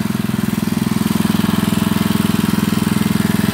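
A small engine fitted with a new carburetor runs steadily nearby with a loud, even, rapid putter like an idling motor, its tone unchanged throughout and no voices over it.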